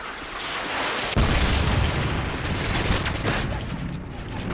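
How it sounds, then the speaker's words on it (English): Predator missile strike in a Call of Duty match: a sudden heavy blast followed by continuous rumbling explosions and crackling gunfire, loud and dense throughout. "Friendly predator missile inbound."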